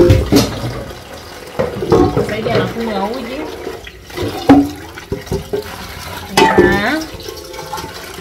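Tap water running and splashing in bursts while a cooking pot is washed in a sink, close and uneven, with occasional clatter and someone talking.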